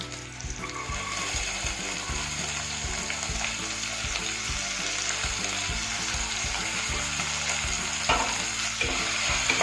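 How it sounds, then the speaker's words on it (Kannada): Chopped vegetables fry in oil for spinach pulao, giving a continuous crackling sizzle with a repeated clatter of stirring against the pan. The sound is close and steady, with no talking. "ತರಕಾರಿ ಹಾಕಿ ತರಕಾರಿ ಸ್ವಲ್ಪ ಚೆನ್ನಾಗಿ ಹುರಿಬೇಕು."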